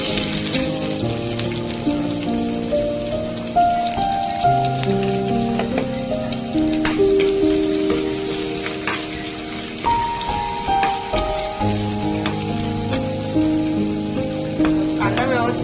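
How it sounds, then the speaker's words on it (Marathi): Steady sizzling and crackling of onions frying in hot oil for a Malvani potato and drumstick bhaji, close and continuous, with occasional stirring clatter and some background music. "आपलं तेल चांगलं गरम झालंय तर कांदा टाकूया"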